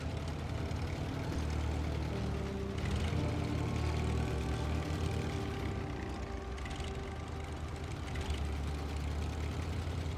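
A truck engine idles in the video game SnowRunner on the Kola Peninsula, a steady droning rumble with shifting tonal whine running the whole time, fairly close and unaccompanied by speech.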